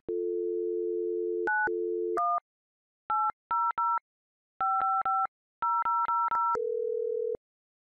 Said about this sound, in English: You can dial toll-free numbers.